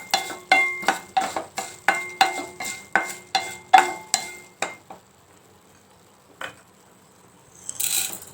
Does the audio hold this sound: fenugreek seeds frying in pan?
yes